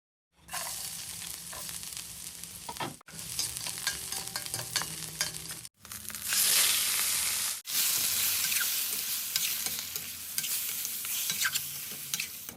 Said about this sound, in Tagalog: nagisa lang ako ng bawang at sibuyas